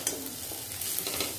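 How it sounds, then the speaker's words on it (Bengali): Potatoes with poppy seeds frying in a pan while being stirred, a dense, steady sizzle with soft scraping of the stirring, close and continuous with no talk. "পোস্তটাকে দিয়ে ভালো মতো নাড়াচাড়া করে মিশিয়ে নিয়েছি, এবার এটাকে আরও 1 মিনিটের মতো একটু ভাজা ভাজা করে নেব"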